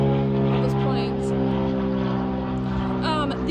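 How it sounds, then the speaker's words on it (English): Propeller airplanes drone overhead, a loud, steady, throbbing engine hum that swells slightly toward the end, with a voice faintly present beneath it. "Those planes."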